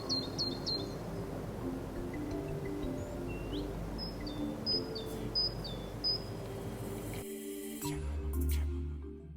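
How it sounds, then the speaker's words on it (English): Recorded birds singing: faint, high chirps and short whistled calls repeat over a steady low hum of insects and ambient noise, and the sound drops out near the end. "and the other of birds singing."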